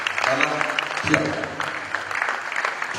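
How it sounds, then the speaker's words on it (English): Audience applause at an arts awards ceremony, steady clapping from a crowd blended with voices and cheering throughout. "A round of applause for Asante"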